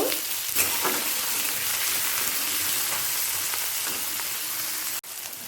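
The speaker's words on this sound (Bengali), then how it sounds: "টমেটো আর কাঁচা লঙ্কাটাকে একটু ভেজে দেব" Chopped tomato and green chilli frying in spiced oil for a potato and pointed gourd curry, a steady close sizzle with soft stirring scrapes and a brief dip near the end.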